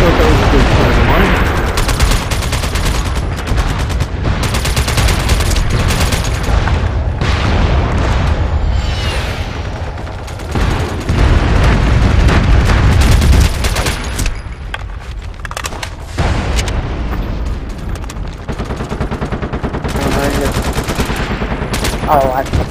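Heavy, sustained gunfire and explosions in a military online shooter battle, with rapid machine-gun bursts and booming blasts packed densely throughout, loud and continuous, with occasional voices mixed in.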